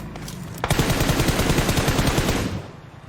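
Rapid automatic gunfire from a shooting video game, a dense burst of close, loud shots that runs steadily for about two seconds and then stops abruptly.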